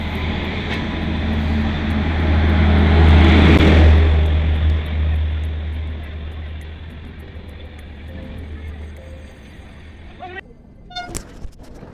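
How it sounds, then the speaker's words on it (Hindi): The Delhi Pathankot Express arrives at Subzi Mandi railway station, a loud, swelling rumble of the train passing close by that peaks and then fades, followed by a few sharp horn toots near the end. "ये आ रही है दिल्ली पठानकोट एक्सप्रेस"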